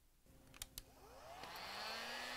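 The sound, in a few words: heat gun heating a dryer thermostat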